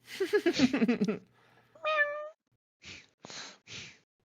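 A person imitates a cat with a single drawn-out meow, after a burst of quick chatter, followed by a few short breathy sounds.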